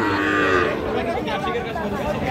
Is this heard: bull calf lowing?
yes